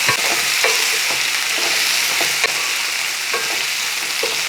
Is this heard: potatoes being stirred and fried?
yes